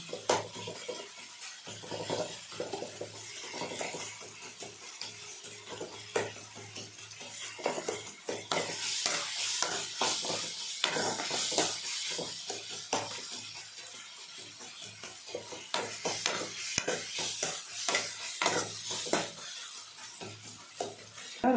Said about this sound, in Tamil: இந்த மாதிரி நல்லா வதங்கணுங்க ஒரு பத்து நிமிஷம் வதங்கணும்